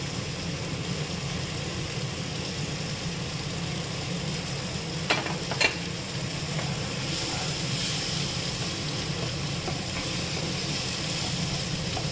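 Steady sizzling of half-fried onions in a hot pan, with a few brief scraping clicks of stirring partway through; no voices.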